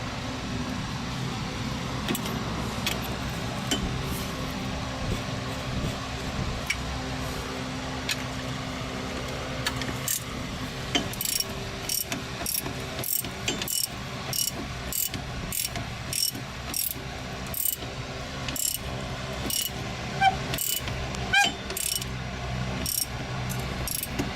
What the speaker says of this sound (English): Then I will use the breaker bar to torque this down pretty tight.